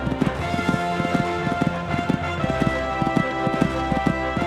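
Regular clip-clopping hoofbeats of a horse cantering along a cross-country eventing course, evenly spaced and moderately close, running under steady background music.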